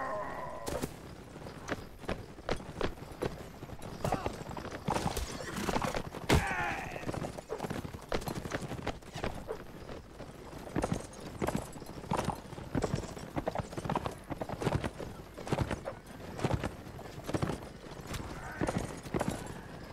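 Horses in Mount & Blade: Warband clip-clop steadily through the whole stretch, with fast, dense hoofbeats, a whinny partway in and battle noise around them.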